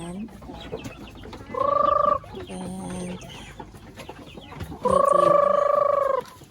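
Native chickens and chickens crossbred from Barred Plymouth Rock and native stock cluck and call on a backyard farm, with two loud bursts of sustained clucking over softer ambient bird noise and brief talk.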